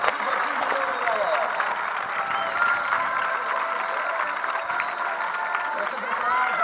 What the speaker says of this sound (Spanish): Fuerte aplauso al campeones.